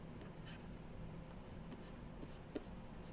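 Chalk or pen writing an equation on a board during a physics lecture on plasma, faint scratchy strokes and light taps in a quiet room, with no voice.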